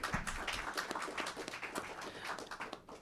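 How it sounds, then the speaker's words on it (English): Audience at an evening report-back event on Cuba brigades applauds, dense steady clapping from many hands that tapers slightly toward the end. "Let's give him a round of applause."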